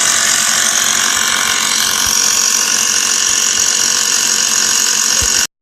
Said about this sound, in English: This tire is taking a sweet time trying to air up.